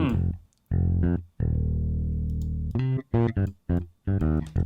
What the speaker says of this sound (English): that's a good distortion for bass